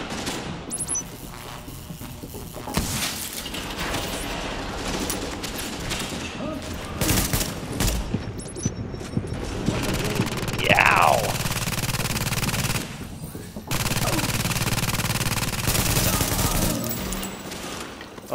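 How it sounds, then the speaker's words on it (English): An automated turret firing in a video game, with rapid sustained bursts of loud gunfire running across the whole stretch, and a voice talking over parts of it. "Kept his attention, the turret just ripped him up from behind."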